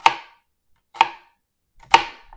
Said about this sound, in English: I'm going to cut this up really small.